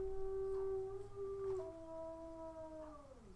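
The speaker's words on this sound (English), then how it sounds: "because the dogs are barking next door." Dogs next door give a drawn-out, wavering howl, faint and distant against a low background rumble, with the pitch sliding downward near the end.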